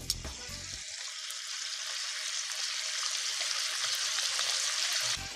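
Bacon frying in a pan: a steady, bright sizzle that holds for several seconds, close and fairly loud, after a few brief low knocks at the start.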